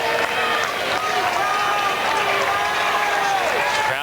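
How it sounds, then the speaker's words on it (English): A crowd at a college baseball game at Old Alex Box Stadium, LSU, with Mississippi State visiting, roars steadily with clapping and cheers, loud and continuous, while an announcer's voice talks over it. "Crowd coming alive, and here comes the 3-2 with the runners going."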